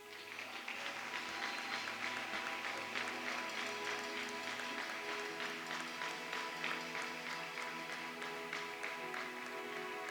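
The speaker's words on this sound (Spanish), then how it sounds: "Den un aplauso al Señor." A church congregation applauds together during a sermon, a dense, steady wash of clapping that holds for about ten seconds over a faint, sustained musical tone, with scattered cheers mixed in.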